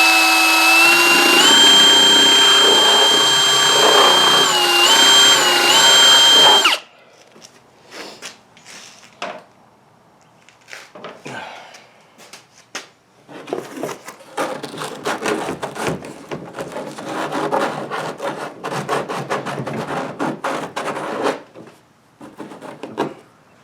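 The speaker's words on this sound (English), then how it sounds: "Just going to sand out, finish off the last little bit here." A sanding tool smooths out a rod holder hole in a Pelican Mission 100 kayak, with a loud whirring motor at first, then intermittent scraping and rubbing bursts of varying loudness.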